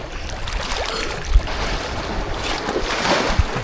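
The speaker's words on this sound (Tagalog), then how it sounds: "Grabe yung alon guys." Rough sea waves slap and wash around a small boat near an island, with gusty wind buffeting the microphone and a couple of low thuds against the hull, loud and continuous.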